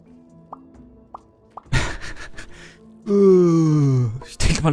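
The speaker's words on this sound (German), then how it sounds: "Ach, müde, das ist ein Gähne." A game character in Judgment: Apocalypse Survival Simulation lets out a long, loud drawn-out yawn with a falling pitch, preceded by a few soft clicks and a sharp breath, with another breath-like gasp right after.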